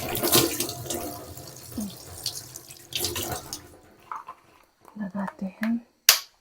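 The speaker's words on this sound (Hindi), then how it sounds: "ठंडा पानी।" Cold tap water splashing as a face is washed, with intermittent splashes and running water, then a series of close, quick splashes near the end, with someone talking over the first part.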